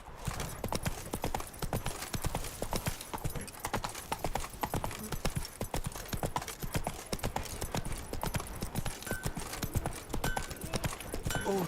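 Roach, a horse in Witcher 3, trots steadily with rapid, even clip-clopping hooves filling the whole stretch, a faint whinny and a short spoken remark mixed in.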